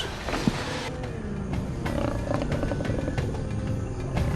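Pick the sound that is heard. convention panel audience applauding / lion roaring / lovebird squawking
lion roaring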